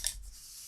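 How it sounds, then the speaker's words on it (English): Small scissors snip through a piece of notebook paper with one quick, close, crisp cut that fades into quiet room tone. "I'll just take these little scissors and cut this off"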